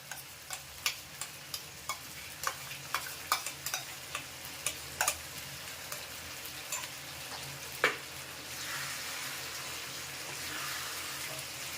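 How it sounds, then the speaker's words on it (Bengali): Sour yogurt goes into a pan of fried chicken that has been cooked down, in a Peshawari chicken dish: a string of sharp taps and clinks, then a rising, steady hiss of sizzling. "বন্ধু মাংস পুরো কষানো হয়ে গেছে, এবার টক দইটা দিয়ে দেবো, ফ্যাটানো টক দই দিয়ে দেবো।"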